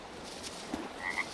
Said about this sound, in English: There's a couple of frogs there.